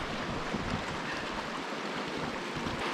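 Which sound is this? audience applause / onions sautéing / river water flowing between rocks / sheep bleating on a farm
river water flowing between rocks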